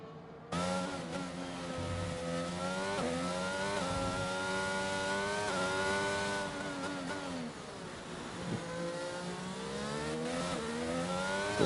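A Mercedes Formula 1 car with DRS open accelerates through the gears in an F1 racing game on the Singapore circuit, its onboard engine a loud whining scream that climbs, dips at each upshift, and climbs again.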